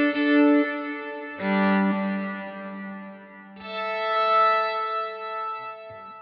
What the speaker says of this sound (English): this is just like a really nice modulated delay